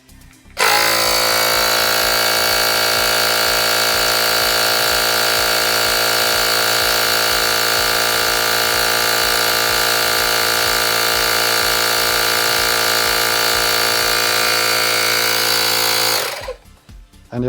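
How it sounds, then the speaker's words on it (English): A Fanttik X8 APEX EV tire inflator pump runs with a loud, steady buzzing drone that starts abruptly, holds for about fifteen seconds and cuts off sharply, with no talk over it. "And now turn it on the pump."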